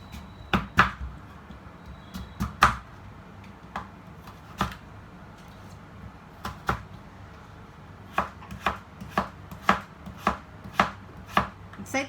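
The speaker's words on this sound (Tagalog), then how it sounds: "hiwa-hiwain ko lang din to ng maliliit para mabilis mag-blend sa ating blender" A knife chops ingredients into small pieces on a cutting board in a home kitchen, ahead of blending. Sharp, close, individual knocks come in irregular bursts, with quiet gaps between groups.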